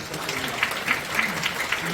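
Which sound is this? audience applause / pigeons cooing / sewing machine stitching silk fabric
audience applause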